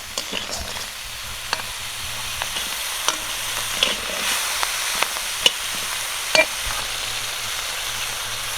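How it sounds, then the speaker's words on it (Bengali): Spices sizzle softly in hot oil for a crab curry, with scattered clicks and taps of a utensil stirring the pan at irregular intervals. "মশলাটা ভাজা হয়ে গেছে"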